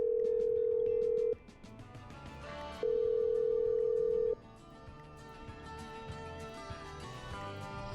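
Telephone dialing in the video game Killer Frequency: a steady dial tone sounds, breaks off, returns, then stops, with faint button tones and a soft background music bed throughout.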